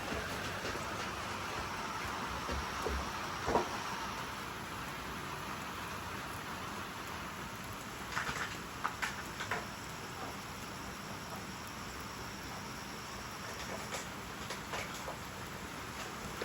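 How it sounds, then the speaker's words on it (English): Rain on a metal roof, a faint, steady hiss of patter with occasional louder drips and taps, distant and soft throughout. "you're ruining the rain on the metal roof ambiance, Willow"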